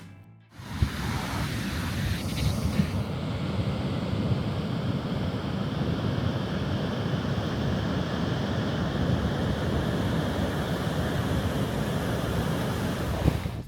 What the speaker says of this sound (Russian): звук прибоя и свист ветра создает очень необычную звуковую атмосферу